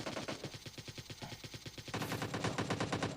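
Rapid gunfire in PUBG Mobile Lite, with dense, evenly spaced automatic bursts throughout and a louder, fuller volley in the second half.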